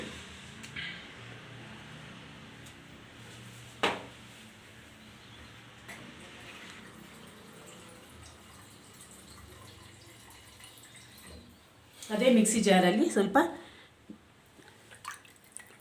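A short burst of water being poured, splashing into a mixer jar, stands out near the end amid quiet kitchen background and brief speech.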